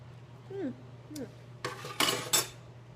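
A utensil scoops a dehydrated apple mixture into a bowl, making a few close scraping and clinking strokes against the dish after a short voiced sound.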